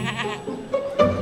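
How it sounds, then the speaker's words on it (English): A goat bleats near an airport runway on the trek toward Mount Everest Base Camp, giving a couple of short wavering calls close by against a quiet background. "Was that a goat?"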